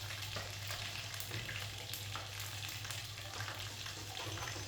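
Chicken fries in a pan for a home dinner, giving a steady, even sizzling hiss that holds throughout at moderate volume with only slight crackling variation.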